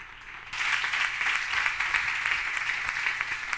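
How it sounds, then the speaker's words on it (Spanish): Church congregation applauding during an evening service, a steady wash of many hands clapping that swells in after a brief quiet start and holds at an even level throughout. "Denle un aplauso al Señor en esta noche."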